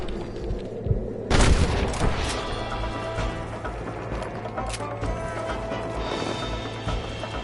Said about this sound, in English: Fine shooting, boys.